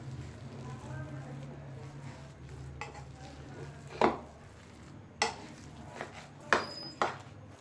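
Shami kabab masala mixed by hand with fresh coriander and lemon juice, soft squelching and stirring under a low hum, with a few sharp clinks and knocks toward the end.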